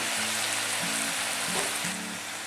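Coriander leaves, tamarind and green and dried chillies sauté in a pan, giving a constant broadband sizzle and hiss with some faint tonal hum beneath.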